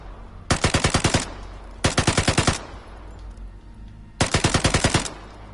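Three short bursts of automatic gunfire in the video game Vigor, each a rapid string of about seven loud, evenly spaced shots, separated by brief pauses with no voices.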